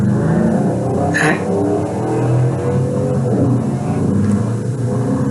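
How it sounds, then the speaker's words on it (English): Motorcycle revving outdoors at a distance, a steady rumbling engine drone that swells and fades slightly throughout, heard alone with no talk. "I think a motorcycle went off outside"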